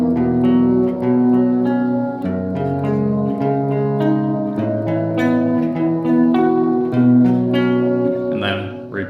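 Guitar plays an interlude solo, a repeating run of picked single notes with sustained tones ringing together, clear and close, with no voices over it.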